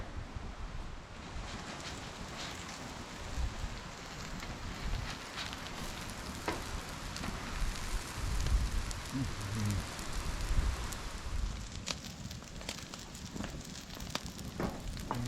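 Four eggs frying in a pan, a steady quiet sizzle and crackle with scattered small pops running throughout, no voices.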